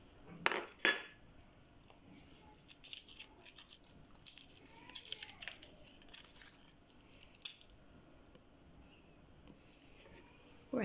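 Spices and ingredients, including harissa, stirred in a bowl with a utensil: clinking and scraping in uneven bursts, close and fairly quiet, with short pauses between strokes.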